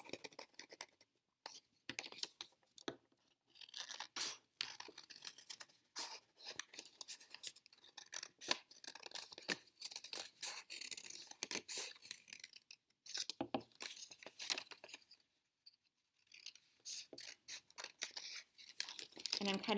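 Scissors snip through folded paper in a quiet room, making irregular, close, crisp crunching cuts with short pauses between strokes, some in quick runs.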